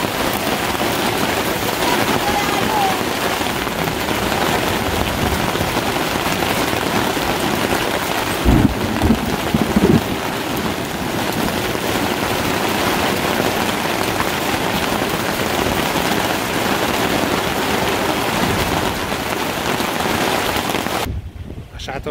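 Heavy hail and rain pound a tent during a summer storm in Romania, a dense, loud, continuous drumming roar that hardly varies for over twenty seconds, with a brief low thud midway and a sudden drop at the very end.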